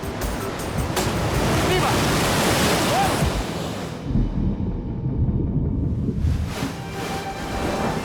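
Sea waves crash on rocks along a rugged shoreline, making a loud, continuous roaring surge with wind buffeting the microphone. The roar eases briefly midway, then another wave builds and breaks.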